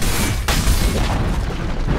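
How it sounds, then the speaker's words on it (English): A tower collapsing in the Dota 2 video game, heard as a loud, deep booming blast with a rumbling low end that rolls on for about two seconds, with no talking. "Dire's middle tower has fallen."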